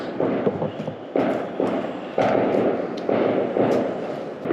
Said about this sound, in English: You have to ignore the fireworks, guys. Nothing like fireworks to ruin your audio.